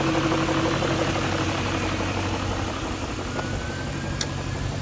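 A 2001 BMW 540i engine idles steadily with a low rumble and a faint metallic Vanos rattle running through it, close by and continuous.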